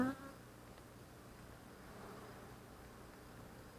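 Honeybees circle near the head of a beekeeper inspecting a hive, a faint continuous droning buzz after a brief louder sound at the very start, with no talking over it.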